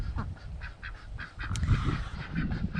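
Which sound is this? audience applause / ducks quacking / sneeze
ducks quacking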